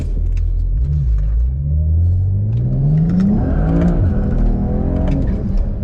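A BMW E92 335i with the N54 engine accelerates hard through a 0-60 run, its loud engine note climbing steadily through gears with a deep rumble and brief dips at each shift.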